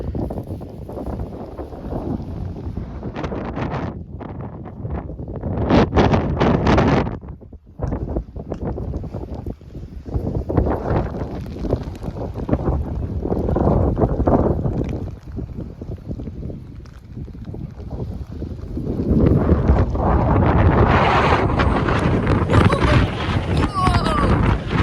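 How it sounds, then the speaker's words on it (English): Strong gusting wind buffets the microphone on a wet, windy walk up the South Downs, roaring loud and close with surges and brief lulls, and people talk and shout over it. "Let's get out the wind a little bit."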